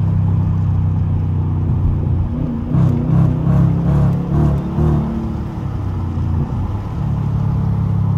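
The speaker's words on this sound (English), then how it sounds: "listen to that downshift" A car engine blips and drops through gears on the paddle shifters, revving in several quick bursts near the middle over a steady low rumble, close and loud.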